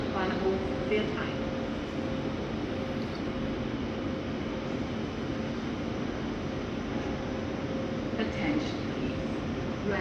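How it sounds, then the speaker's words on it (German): Express train pulling into platform 2 at Salzburg main station, a steady low rolling rumble and hum under a German station announcement, with a few brief higher squeals near the end. "Schnellzug 19, 87 nach Feldkirch über Kufstein, Berge Hauptbahnhof und Innsbruck Hauptbahnhof fährt ein."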